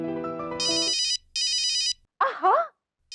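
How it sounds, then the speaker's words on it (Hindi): A mobile phone ringtone plays in two loud, steady electronic bursts right after a tuneful musical passage, followed by a short expressive vocal sound. "फोन बज रहा है तेरा।"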